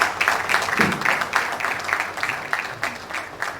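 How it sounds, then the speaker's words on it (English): A round of applause fills a dentistry faculty session at a college of health sciences, dense clapping from a seated audience rising and falling in uneven waves for a few seconds, with no talk over it. "let's give her another big round of applause"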